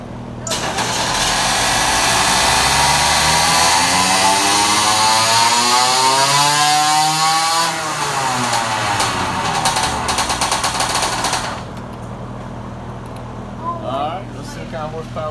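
A motorized bicycle engine on a dyno, fitted with an HD lightning CDI, revs loudly and continuously, climbing steadily in pitch and then dropping back before cutting to idle near the end.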